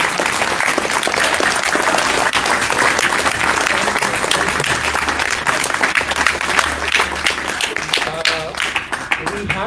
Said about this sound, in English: give a big round of applause to the coaching